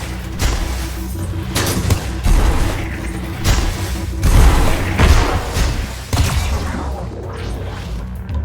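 Repeated heavy grenade blasts from the video game Gunnhildr, booming thuds arriving every second or so over a dense, rumbling battle backdrop, loud and close throughout.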